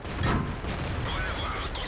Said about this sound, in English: I bounced a shot there, that was incredibly lucky